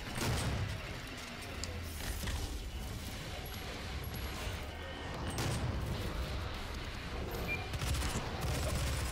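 A shotgun fires repeatedly in a Doom video game, heavy blasts mixing with rapid gunfire and mechanical clatter in a steady, fairly loud barrage.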